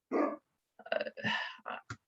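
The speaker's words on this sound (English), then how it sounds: "Sorry, my dog is barking." A dog barks several times in short, close bursts with gaps between them, heard alone and fairly quiet.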